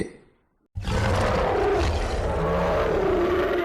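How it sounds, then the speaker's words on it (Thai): A tiger roars in a forest, a sudden loud, sustained roar breaking in after near silence and filling the rest of the clip. "เมื่อเสียงคำรามของเสือแววมาแต่ไกล"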